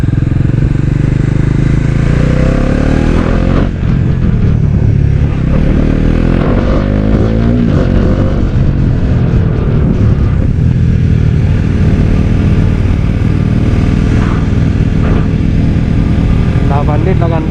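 A Bajaj Pulsar NS400Z motorcycle engine runs steadily and loud while riding, its droning roar and wind rush constant throughout, with a voice talking over it.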